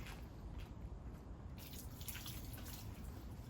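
Water splashes and trickles over hands at a Japanese shrine purification basin, a soft continuous pour that grows brighter halfway through; quiet, close, with no voices.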